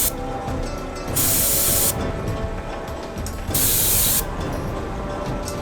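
A spray paint can hissing onto a Fallout 4 Pip-Boy replica build in two steady bursts of about a second each, close and loud over a constant background noise.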